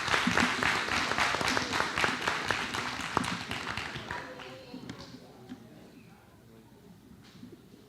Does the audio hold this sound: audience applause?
yes